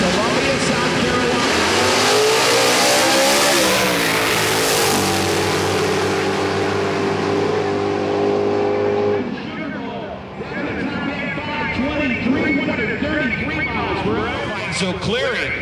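Drag race cars, including a black 1992 Mustang with a 438 cubic inch V8, launch with a loud roaring rev that climbs in pitch, then fade into a rougher, receding engine drone while a voice commentates.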